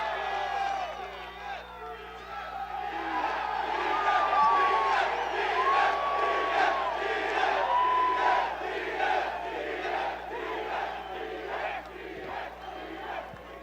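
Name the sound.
press conference crowd cheering and shouting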